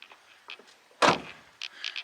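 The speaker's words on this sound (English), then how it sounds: "Close up all the rest of the doors." A door on a Toyota FJ Cruiser shuts with one solid thud in the middle, bracketed by lighter clicks and handling noises from the car body before and after.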